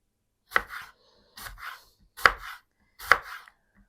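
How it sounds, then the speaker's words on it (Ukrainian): A knife chops apples and cucumbers into thin strips on a cutting board, giving four crisp, evenly spaced double-tap cuts that sound close and clear in a quiet room. "Тим часом наріжемо яблука та огірки."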